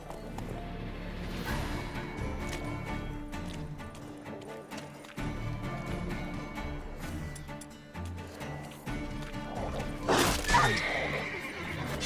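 Roach the horse in The Witcher 3 whinnies and clip-clops, hooves thudding at a steady walk with a louder neigh near the end, close and clear with no talk.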